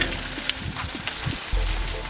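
Food frying in a pan on a home stove, a soft continuous sizzle with scattered crackles and pops, close by, with no voices over it.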